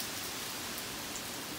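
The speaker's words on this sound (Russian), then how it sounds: "дождь как таковой не такой уж и сильный по сравнению с тем грохотом" Steady rain during a storm in Dallas, a dense even hiss of falling drops with no pauses, fairly loud and close, with no talking.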